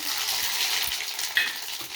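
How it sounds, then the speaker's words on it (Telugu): Spices crackle and sizzle in hot oil, a close, bright frying hiss with a sharp pop partway through. "చూడండి ఫ్రెండ్స్ పోపు అయితే పెట్టేసాను"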